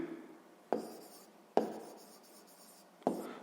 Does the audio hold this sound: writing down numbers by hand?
yes